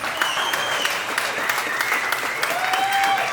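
A comedy-show audience claps steadily throughout, a dense, lively patter of many hands with a few sharper individual claps standing out and no gaps.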